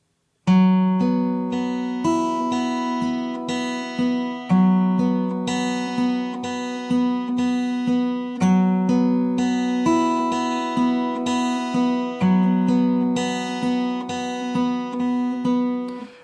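A guitar plays a repeating melodic line of plucked notes from the game The Last of Us: Left Behind at a slow, even pace, the phrase cycling several times with no voices.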